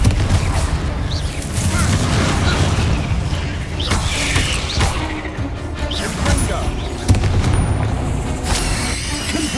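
Confringo fire spells in Hogwarts Legacy explode repeatedly, with scattered loud booms and cracks over rumbling, mechanical game noise; a voice speaks at times.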